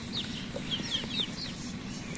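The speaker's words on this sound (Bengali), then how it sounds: "তো আমাদের দেশে টাইগার মুরগি বলে একটা জাত হয়েছে, এই টাইগার জাত মুরগি।" Tiger-breed chickens clucking close by in a rural yard, several short bright calls in quick succession over a low steady background.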